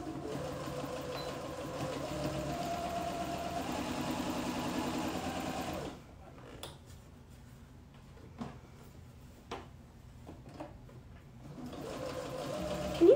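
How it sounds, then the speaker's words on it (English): A quiet sewing machine runs an elastic stretch stitch, a soft, even mechanical whir for about six seconds that then stops, leaving a few faint clicks and handling taps. "Can you hear how quiet this machine is?"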